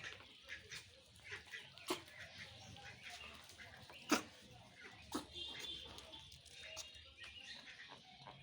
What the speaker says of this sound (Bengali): এই হাঁসগুলো খাচ্ছে।